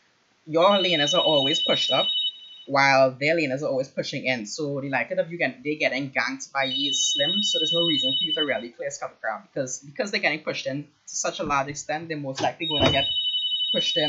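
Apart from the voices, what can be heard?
phone ringing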